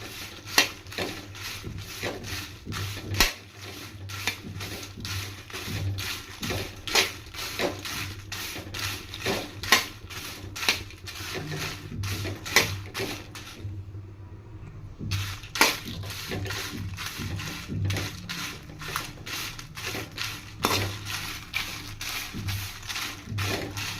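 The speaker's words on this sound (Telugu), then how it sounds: "ఒక 5 మినిట్స్ వరకు ఈ విధంగానే కలుపుకుంటా మీడియం ఫ్లేమ్ మీదే రోస్ట్ చేసుకోండి ఫ్రెండ్స్." Coconut spice powder being stirred and dry-roasted in a pan over medium flame: a rapid, repeated scraping and crunching of a spatula across the pan, steady and close, with one short pause midway.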